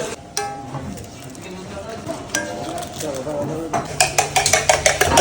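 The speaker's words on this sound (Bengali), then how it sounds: "ডিমটা ফাটানো হচ্ছে দেখুন কত স্পিডে ফাটছে" Eggs cracked quickly into a bowl at a street-food stall making a large fish kabiraji: rapid sharp cracks cluster near the end amid clinking utensils and pan clatter, with kitchen voices in the background.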